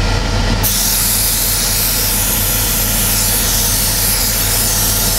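An airbrush at high air pressure sprays paint onto a Millennium Falcon model, producing a loud, continuous broadband hiss with a low compressor drone, steady throughout with no talking.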